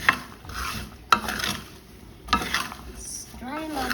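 Groundnuts dry-roasting in a pan at home, stirred with a utensil: scraping strokes and rattling nuts in several bursts with sharp clicks, fairly close, and a voice briefly heard near the end.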